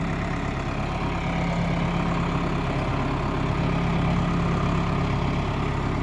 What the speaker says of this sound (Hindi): 1000 RPM पे।